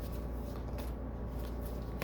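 Tarot cards being shuffled in a steady, soft riffling and sliding that runs continuously and close, with no talking.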